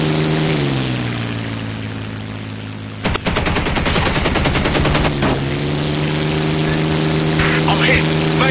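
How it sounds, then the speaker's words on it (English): Heavy machine-gun fire in a video game erupts in a loud, rapid stream of shots lasting about two seconds over a constant droning engine hum, with a voice speaking around it. "Taking heavy fire!"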